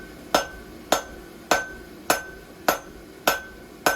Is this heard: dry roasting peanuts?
no